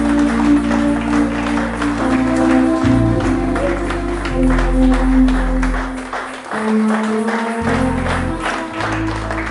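A church congregation claps steadily and loudly in a dense, continuous wash of applause, with sustained music tones running underneath throughout.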